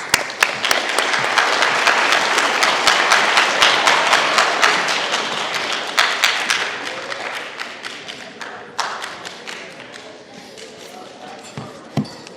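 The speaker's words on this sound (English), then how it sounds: "Let's give him a round of applause" An assembled audience gives a round of applause as a sergeant comes to the podium, a thick, loud clapping that gradually thins into sparse individual claps before dying out.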